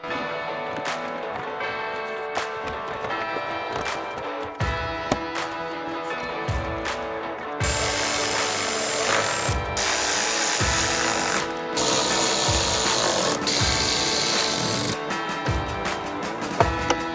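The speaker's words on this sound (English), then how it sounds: "Here I'm taking the screws out" Power tool removing screws from the interior of a wrecked Audi RS 3, heard as a steady mechanical whir with repeated bursts and short pauses, close and continuous for the whole stretch without speech.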